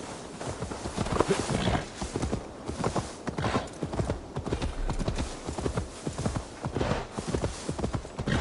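Horse hooves clip-clop steadily in Assassin's Creed Valhalla as a horse is led along, a continuous rhythmic trot of close, moderately loud footfalls lasting the whole stretch.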